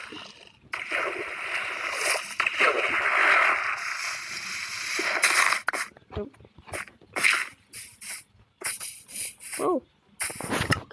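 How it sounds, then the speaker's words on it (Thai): A splash as a character falls into water in a sky-island survival video game, a broad burst of watery noise followed by choppier bursts of sound, with no speech. "ตกน้ำ"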